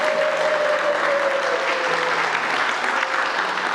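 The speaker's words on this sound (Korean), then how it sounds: "우리 뜨겁게 박수." A church congregation at a Sunday worship service applauds to welcome new parents and their baby, a steady, dense wash of clapping filling the room for several seconds, with faint tones underneath.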